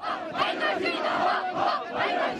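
Street protesters in Jordan chanting against a corrupt government and IMF-driven economic policy, a crowd of voices shouting rhythmic slogans in repeated surging phrases, heard at moderate distance.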